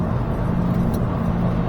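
A car cruises along the M40 and M42 motorway in England toward Donington Park, giving a steady, loud, even rumble of road and engine noise from inside the cabin.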